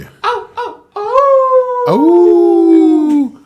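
Wolf howling sound effect: two short yelping rises, then a long, loud sustained howl followed by a second drawn-out howl that slowly falls in pitch, close and clear.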